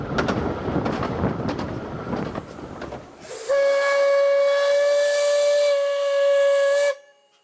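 A miniature steam railway train in Norfolk rumbles and hisses up close, then its steam whistle lets out one long, loud, steady blast before cutting off.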